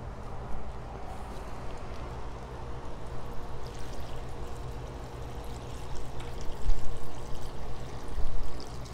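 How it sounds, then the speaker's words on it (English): Steady water pouring into a container, a continuous splashing flow that swells louder near the end, with no talking. "I am just going to fill this up with water"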